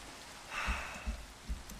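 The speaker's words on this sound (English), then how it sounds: "I much prefer the sound of rain underwater" Muffled rain heard from underwater in Minecraft, a steady dull hiss with soft low thumps recurring at a slow, even pulse.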